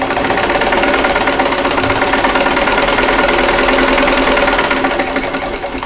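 A sewing machine stitches half square triangle quilt pieces a quarter inch from a drawn line, giving a steady, close, continuous mechanical whir with a fast rhythmic stitching pulse and no talking.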